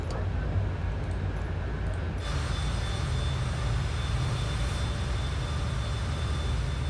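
Steady, loud jet engine roar from a CRJ-700 airliner in a flight simulator game, a continuous broadband rumble with a high whine that brightens partway through, with no voices.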